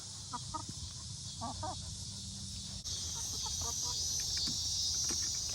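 Chickens cluck in short, scattered bursts in a coop, fairly close, over a steady hiss of background noise that grows slightly louder partway through.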